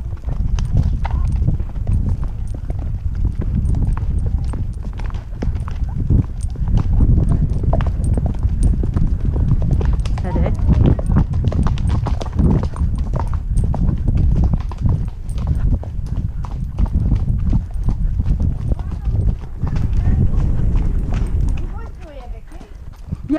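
Horse hooves cantering on an outdoor hack, a continuous loud rhythmic drumming close to the rider, with wind and movement noise and voices talking over it.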